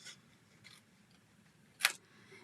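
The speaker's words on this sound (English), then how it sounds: "Now let's fussy cut it out." Scissors fussy-cut paper with a few quiet snips, then one crisp, louder cut, all close up with no talking.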